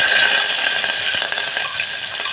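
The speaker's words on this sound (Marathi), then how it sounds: "हे थोडं आपण परतूया." A bay leaf, green chilli and curry leaves are stirred in hot oil, giving a continuous loud sizzle and crackle close by, with faint scraping of the stirring throughout.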